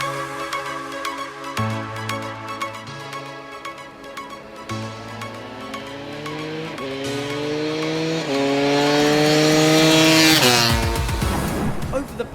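Hoonigrom, a 300cc two-stroke monkey bike built on a Honda Grom frame, revs up with rising, climbing engine harmonics under background music, building to a loud high-pitched wail near the end.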